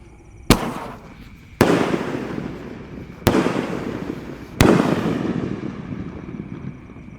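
Roman candle fireworks firing shots one after another: four sharp loud bangs spaced about a second apart, each trailing a long hissing, crackling wash, heard outdoors with no talk.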